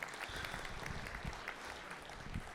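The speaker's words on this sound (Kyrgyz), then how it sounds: "Келдибек Атабеков тааныгандар кол чаап коюңуздарчы" Audience applause at a Kyrgyz stand-up comedy concert in a technopark hall, a steady wash of many hands clapping, quite faint and distant, with no voices standing out above it.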